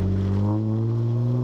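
A Jeep Wrangler JKU engine labors in four low while climbing an off-road hill, a loud, steady low drone with a slight rise in revs, close up and without talk.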